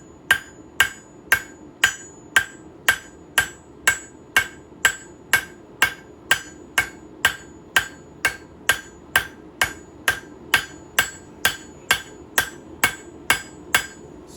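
A hammer strikes a knife blade on an anvil in a slow, steady, even rhythm, about two sharp ringing blows per second, close and clear over a low background hum.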